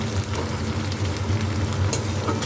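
Onions sizzle and fry in a pan, a dense, steady crackling hiss that carries on evenly and close up, with no talking.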